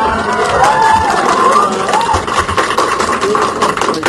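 Staff of the Office of the Vice President applaud in a steady, dense wash of clapping mixed with crowd cheering, holding at a constant level for the whole stretch.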